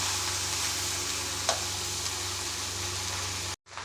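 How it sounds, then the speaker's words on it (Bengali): Continuous sizzle of cooked rice frying in a hot pan, with a faint scrape of stirring partway through, then an abrupt cutoff. "ভালো করে ভাতগুলোকে ভেজে নেব"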